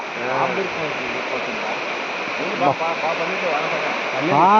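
Flood water after heavy rain roars steadily down a stream in the background while a person talks over it, the flow constant and fairly loud.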